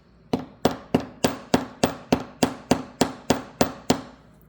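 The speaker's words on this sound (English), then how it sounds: "I'm not hammering hard, but I'm swirling, I'm moving the hammer away from me." A hammer tapping a metal jewelry component gently, about a dozen evenly spaced, sharp ringing strikes in a steady rhythm, close and clear with no talk.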